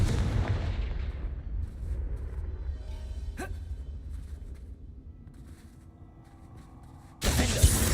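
Fiery blasting spell cast in the video game Hogwarts Legacy: a loud booming burst opens, then rumbles and decays over several seconds with a sharp crack in the middle, ending in another sudden loud blast.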